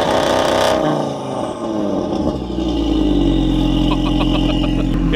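An Audi TT RS five-cylinder engine cranks and fires, then settles into a loud, close idle with a deep steady rumble and some uneven burble over several seconds.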